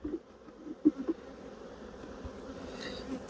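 Honey bees buzz around an open hive, a soft, steady drone with a few brief louder passes near the start, low and continuous with no voices.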